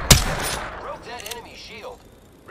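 A sharp, loud gunshot cracks at the start of a competitive first-person shooter match, its echo and a few fainter shots trailing off, with a voice briefly audible in the background.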